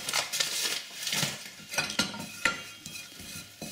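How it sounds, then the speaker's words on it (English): Flour being stirred into melted butter in a pan for a sauce: repeated scraping and knocking of a utensil against the pan, in uneven bursts over a faint sizzle. "I'm stirring in some flour to make that thick"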